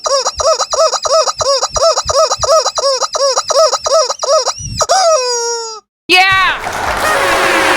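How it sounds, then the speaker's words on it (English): A rubber chicken toy squawks in a rapid, regular series of loud, nasal honking squeals, a dozen or so in a row, followed by a longer stretched squeak and a final wobbling squawk, all close to the microphone. "18 rubber chicken squawks for you"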